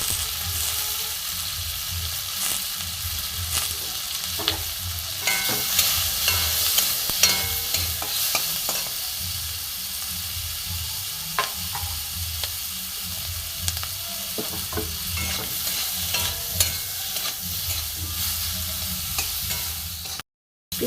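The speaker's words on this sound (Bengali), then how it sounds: "এই তেলেতেই আমি ক্যাপসিকাম আর পেঁয়াজ ভেজে নেবো।" Capsicum and onion, cut into squares, fry in oil left over from frying eggs, a continuous close sizzle with scattered crackles and stirring scrapes, no talking, cutting off abruptly at the end.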